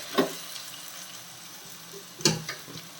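Chicken perattu mixture with ginger and garlic stirred in hot oil over a medium flame: a low, steady sizzle runs throughout, broken by two sharp spoon-scrape clacks near the start and past the two-second mark, with no voices.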